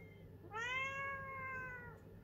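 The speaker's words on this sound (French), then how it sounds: "C'est des chats qui parlent" A pet cat gives a single clear, drawn-out meow indoors, rising then slowly falling, heard alone in a quiet room.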